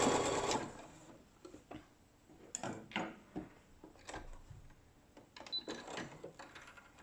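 A sewing machine back-stitches on a bra cup, running in short uneven bursts with brief pauses between them, close and clear with no talking.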